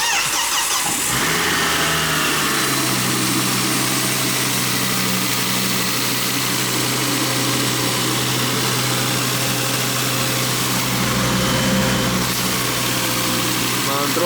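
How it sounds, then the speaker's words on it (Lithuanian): A Volvo T5 car engine with a cold engine idles after a cold start, its steady low hum holding near and even throughout after a brief starting burst at the beginning. "Aišku, dabar šaltas variklis, tai čia viskas bus gerai."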